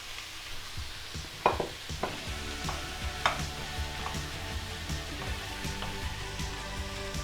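Tomatoes added to a pan of curried fusilli pasta with chicken and garlic, giving a steady soft sizzle with a few sharper clinks and stirring scrapes early on.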